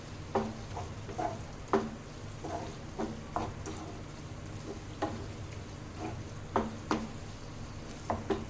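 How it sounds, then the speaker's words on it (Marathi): Shallow-fried paneer is stirred into masala in a pan: a soft, low sizzle runs under a series of sharp spoon knocks and scrapes against the pan at an uneven rhythm. "हे बघा अशा प्रकारे छान मस्त मिक्स करायचे."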